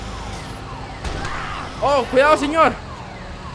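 Warbling sirens sound from a tow truck in the video game GTA 5, rising in a few quick sweeps over a low engine rumble as someone speaks briefly in Spanish.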